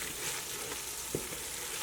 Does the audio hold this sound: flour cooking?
yes